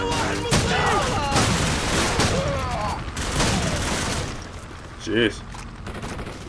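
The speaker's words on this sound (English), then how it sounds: "the W1200, aka Winchester, is one of the most OP shotguns in this game" Dense gunfire in Call of Duty 4 with a Winchester W1200 pump-action shotgun in the mix, loud overlapping bursts and booms for several seconds that thin out later, while someone speaks briefly and other voices call out.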